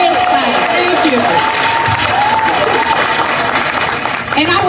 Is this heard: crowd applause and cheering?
yes